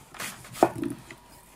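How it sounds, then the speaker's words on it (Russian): A knife cutting a Granny Smith apple into cubes on a board: one sharp chop followed by a short soft scrape, close and alone. "Нарезаем яблоко кубиками."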